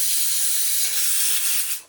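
A pressure cooker full of chickpeas vents a loud, steady hiss of escaping steam close by for nearly two seconds before it cuts off sharply.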